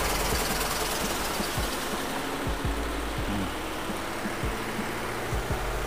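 An AQUA QW 881XT two-tub washing machine runs its spin cycle with a steady, loud mechanical whir and hum, broken by repeated low thumps and rattles spaced irregularly throughout, heard close up with no talking.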